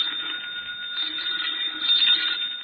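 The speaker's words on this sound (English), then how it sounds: "I think that's your phone." Old-fashioned telephone bell ringing steadily in a house, a bright continuous trill with slight swells in loudness, heard alone with no talk.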